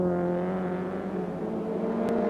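Racing cars at the 1989 Birmingham Superprix street race drone past on the last lap, a sustained high engine whine with shifting pitch, heard from a distance at a steady level.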